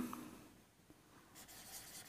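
Chalk or marker writing on a classroom board during a math lesson makes faint scratchy strokes, with a brief brighter rub near the end, quiet and close, with no one speaking.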